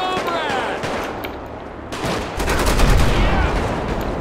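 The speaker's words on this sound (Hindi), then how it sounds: "कट्टा से मार रहा हूँ जो डेढ़ डेढ़ सौ रुपये में आता है" Gunfire from a cheap country-made pistol (katta) in GTA 5, heard as several loud, close shots. Busy game noise and a louder rumbling stretch surround the shots.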